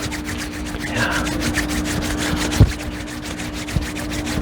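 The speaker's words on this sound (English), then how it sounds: "rub your hands together" Palms rubbing together in a steady, close, continuous swish during a tai chi and qigong warm-up session, with no talking over it.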